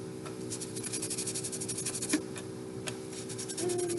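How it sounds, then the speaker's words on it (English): A metal half-moon pendant is sanded horizontally, the sandpaper rasping in quick repeated back-and-forth strokes, close and fairly quiet, with a slightly louder scrape near the end. "Horizontal sanding."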